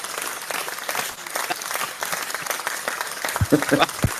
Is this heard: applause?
yes